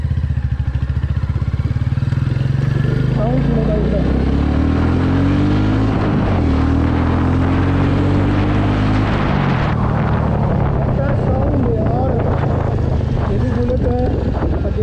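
A heavy single-cylinder Royal Enfield Bullet motorcycle engine thumps loudly and close, revving up and down with a deep throbbing exhaust beat throughout.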